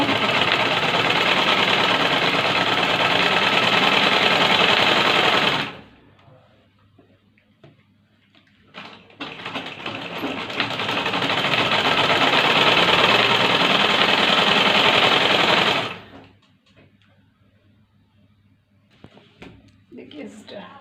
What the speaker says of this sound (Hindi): मैंने यहाँ पर डबल डबल सिलाई करना है इसके ऊपर ताकि मजबूत किया जाए